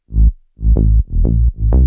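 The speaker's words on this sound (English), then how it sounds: "In the effects here, I'll just turn on the distortion." A gritty, distorted synth plays four punchy notes in a short rising pattern, each with a harsh buzzing edge, loud and close with brief gaps between.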